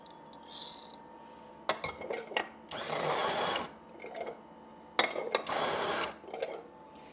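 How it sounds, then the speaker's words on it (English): Electric coffee grinder grinding beans for home roasting experiments, heard in two loud bursts of a few seconds each with quieter handling between them. "Let's come over here and do a little bit of grinding."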